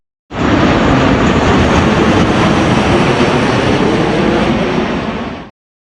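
United Airlines Boeing 737-800 jet engines give a loud, steady broadband roar, heard from inside the cabin, that starts abruptly and holds evenly for about five seconds before fading quickly.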